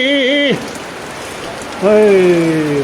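Heavy monsoon rain pours down in Fatehpur Shekhawati, a steady broadband hiss that runs the whole time beneath people talking loudly nearby.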